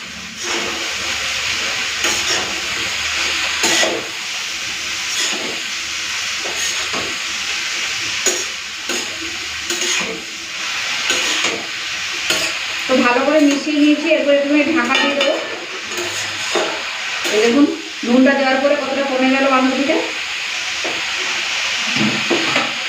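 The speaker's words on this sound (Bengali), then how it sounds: "এদিকে আলুটা লাল করে ভাজা হয়ে গেছে" Potatoes fry loudly in a pan with a steady, continuous hiss and sizzle throughout. A person speaks briefly partway through, and the frying carries on underneath.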